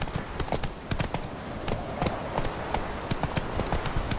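Roach, a horse in The Witcher 3, gallops steadily with rapid rhythmic hoofbeats, close and fairly loud over a constant ambient wash, with no talking.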